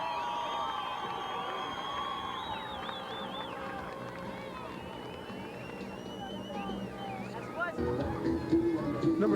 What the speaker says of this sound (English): the White Knight Express gets the Pueblo Crusaders fans involved in the game by a little controlled mayhem as the crowd yells